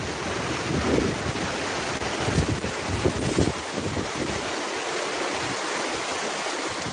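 Waves breaking on a beach mixed with heavy wind buffeting the microphone, a steady broadband rush with a few louder surges early on and a calmer stretch near the end.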